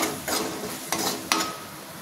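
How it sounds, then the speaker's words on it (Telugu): Coconut powder is stirred into tomato frying in a pan, with a soft steady sizzle and three quick scraping strokes of a spoon, close by. "కొబ్బరి పొడి వేసిన తర్వాత ఇలా కలుపుకోవాలండి"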